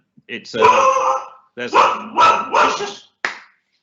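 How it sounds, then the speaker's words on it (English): A pet dog barks in several loud, close bursts, a run of rapid barks followed by a short final yap, with a voice briefly heard. "that's my dog."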